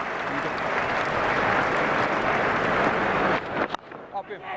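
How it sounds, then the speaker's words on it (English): Cricket crowd at a NatWest series one-day match between England and India breaks into loud sustained applause and cheering for several seconds, then it cuts off into scattered claps and murmurs. "Appreciative crowd in there."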